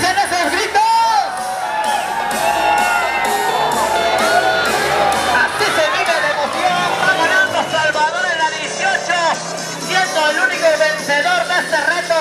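A crowd at an enduro motorcycle race in Temascalcingo shouts, whoops and cheers continuously, many voices overlapping in a loud rhythmic chant with chatter mixed in.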